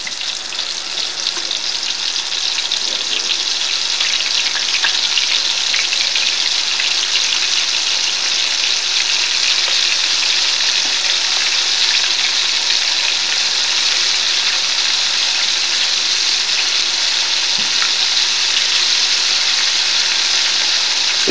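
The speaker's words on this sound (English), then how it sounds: "This is just to brown the beef." Beef browns in a hot pot of oil on medium-low heat, a dense, steady sizzle and crackle that runs unbroken and close, with no talk over it.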